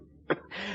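One brief, close, rough cough, like a throat clearing, from a person in an old colour drama film, followed by soft background hiss.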